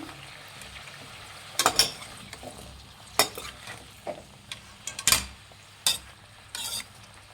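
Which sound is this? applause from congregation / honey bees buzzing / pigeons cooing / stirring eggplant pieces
stirring eggplant pieces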